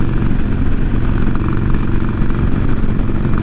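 A 2020 Harley-Davidson Iron 1200 Sportster being ridden on back roads, its engine giving a loud, steady, throbbing rumble heard close and alone.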